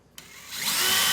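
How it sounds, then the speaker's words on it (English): Power drill boring a 3/16-inch pilot hole into a wall for lag screws while mounting a pressure washer; a short start then a steady, rising whine held close and loud. "So I'm going to drill a 3/16-inch pilot hole"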